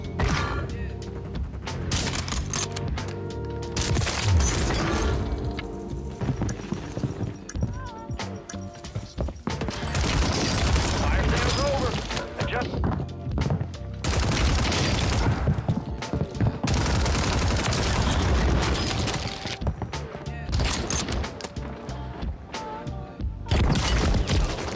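Gunfire rings out in Warzone, with sharp rifle cracks and bursts of shots scattered across a busy, dense mix of game noise, some loud and close, others fainter, over a long stretch of action.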